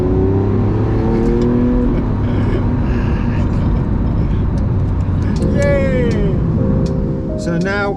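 A Lamborghini Aventador SVJ builds speed with a steady, loud engine note that rises in pitch through the gears, while a voice talks over it.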